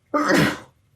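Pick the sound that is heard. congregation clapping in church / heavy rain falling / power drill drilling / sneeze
sneeze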